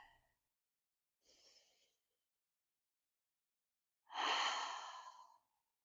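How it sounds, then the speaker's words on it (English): Slow, easy breaths during a seated yoga pose: a soft inhale, then a long, fuller exhale sigh a few seconds later, close and quiet with silence between. "Take another easy breath here."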